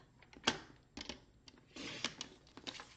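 Cardstock being cut into strips at 2 1/8 inches for fun fold easel cards: quiet, sparse clicks and taps with a short scraping slide of the cut in the middle.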